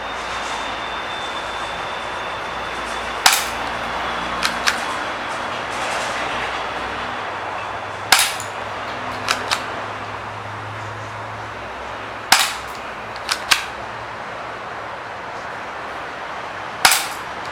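A KWC 1911 airsoft pistol fires at a popsicle stick from about five meters, sharp snapping shots ringing out singly and in quick pairs, roughly eight in all, spaced over a faint steady background hiss.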